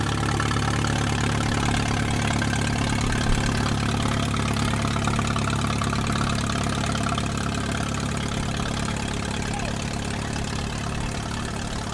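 An antique International 816 diesel tractor engine idles steadily nearby at a thresheree, a loud, continuous low rumble with a faint rhythmic knock throughout.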